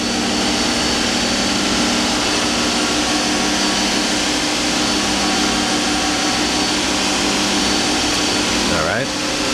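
A 2001 Daewoo Puma 230SA CNC lathe with Fanuc 18iT control and subspindle spins its main spindle at 3000 RPM, a loud, steady, close machine whir and hum that holds constant, dipping briefly near the end.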